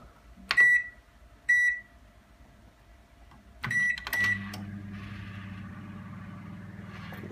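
A Goodmans CB23S-U microwave, under repair for a faulty rotary dial, set to its oven grill function: a few clear electronic beeps, then a steady low hum as it runs.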